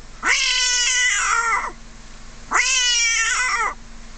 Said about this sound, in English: We will see what happens when it hears a modern house cat in strife.